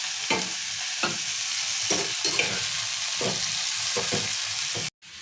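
Tomatoes and onions cook in oil in a pan, a steady close sizzle broken by repeated scraping strokes of a stirring spoon, with no speech, ending abruptly.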